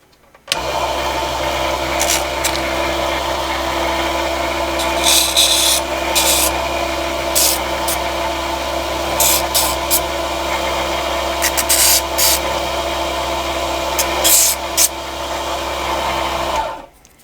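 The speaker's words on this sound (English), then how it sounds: "now we can use our disc sander to sand down the little edge" Disc sander grinding down a small wood edge on a mini table saw setup: a continuous motor whir with rasping abrasive bursts as the piece is pressed against the disc, steady and close for about sixteen seconds.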